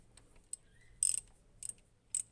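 A ratchet fitted with a 12mm socket on a long extension cranks loose the nuts of a car crash bar. Three short bursts of sharp, close metallic clicking come over a quiet background.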